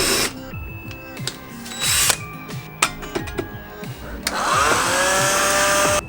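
A power drill whirs in short bursts into wood beneath copper, spinning up and slowing down several times, then runs steadily at the end, loud and close.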